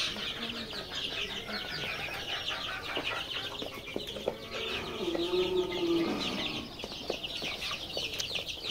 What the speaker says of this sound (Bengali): আসলে লেয়ারের বাচ্চাগুলো সাদা লেয়ার,